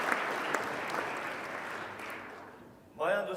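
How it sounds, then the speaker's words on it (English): Ceremony audience at an Estonian university anniversary event applauding an absent lecturer, a steady round of clapping from a large crowd that fades out before a voice starts speaking at the end. "but let's give him an applause."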